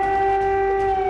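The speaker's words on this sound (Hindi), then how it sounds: "ये लगभग 14 घंटे के बाद पहला सायरन बजा है अभी" An air raid siren in Kyiv, Ukraine, holds a steady, loud, sustained tone over a low background rumble.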